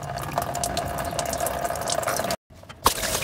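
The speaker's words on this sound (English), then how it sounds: "Get the coolant starting to drain." Coolant drains steadily from a Ram 1500 cooling system during a thermostat replacement, a continuous close trickle and splash that cuts out briefly near the end before resuming with a sharp splat.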